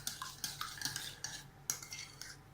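Buttermilk seasoned with salt and spices is stirred for fried chicken, producing repeated close scraping and clinking of a utensil against a bowl in an uneven rhythm, with no talking.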